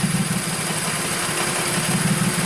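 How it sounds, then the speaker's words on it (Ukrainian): A VW Polo 1.2 AZQ three-cylinder petrol engine with a newly replaced timing belt idles close by in a steady, slightly uneven low pulsing rhythm, alone without talk. "ну ще кілька хвилин роботи, двигун трошки вирівнявся"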